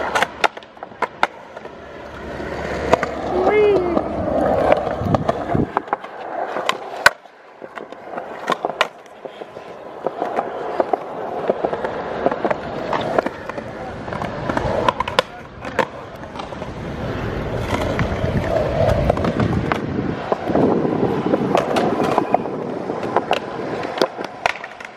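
Skateboard rolling on pavement during an attempt at a back knee trick: continuous wheel rumble with sharp clacks and board impacts scattered throughout, close and fairly loud, with faint voices now and then.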